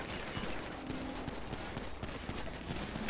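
Dense bursts of video game gunfire in a GTA V roleplay shootout, rapid overlapping shots fired in a continuous volley for about three seconds.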